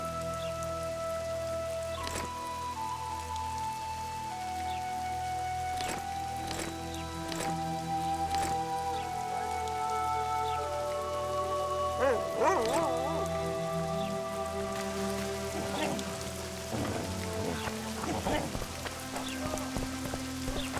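Steady rain falls across an outdoor scene in the PC game The Witcher 2: Assassins of Kings, a continuous hiss laid under a soft musical score, with scattered sharper drops and a few faint dog-like whimpers.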